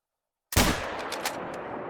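A single loud rifle shot fired in The Hunter: Call of the Wild hunting game cracks suddenly after silence, followed by a rolling echo and reverberant tail that fades slowly.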